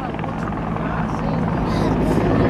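A CH-146 Griffon, a twin-engine Super Huey with Pratt and Whitney power, flies a demonstration at an air national guard open house and airshow. Its loud, steady rotor thrum builds slightly, while a voice talks over it.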